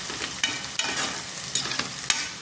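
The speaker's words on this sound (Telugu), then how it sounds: "ఇలా వేసుకొని చక్కగా ఫ్రై చేసుకోవాలి." Ingredients for boti curry fry in a pan with a steady, close sizzle, while several sharp stirring scrapes punctuate the crackling throughout.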